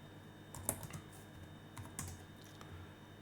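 Keystrokes on a computer keyboard entering a df -h command in a Linux terminal on a cloud machine, a short burst of several close, crisp clicks with a louder tap near the start, heard alone.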